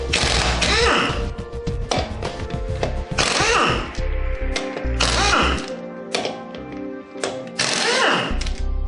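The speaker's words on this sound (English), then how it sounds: "we'll then use a 19mm socket to take the lug nuts off" Socket wrench with a 19mm socket loosening lug nuts on a 1990 Honda Accord wheel, bursts of loud metallic ratcheting and clanking in repeated spurts with short pauses, close up.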